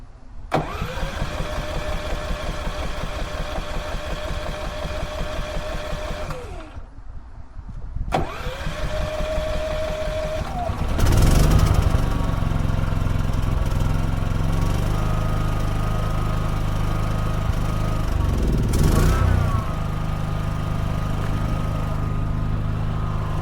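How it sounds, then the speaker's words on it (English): A portable generator is started up to power a welder: an engine cranks and catches, runs steadily, briefly dies and restarts, then settles into a loud continuous drone with a few rising revs. "we're going to fire the generator up and just run my welder off of this"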